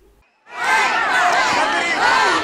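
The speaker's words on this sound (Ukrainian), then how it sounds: "Щоправда, під супровід вигуків ганьба" After a brief near-silent moment, a crowd at a public meeting in Brody bursts into loud, sustained collective shouting, many voices overlapping in a continuous angry roar.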